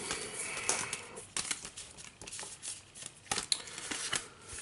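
Playing cards riffle and snap in several quick bursts, close up, with soft shuffling between them and no speech.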